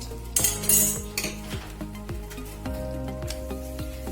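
Whole spices, dry red chillies and bay leaf dropped into hot oil left from frying pointed gourd, with a brief sizzle burst and sharp metallic clinks of a spoon against the pan, close and alone.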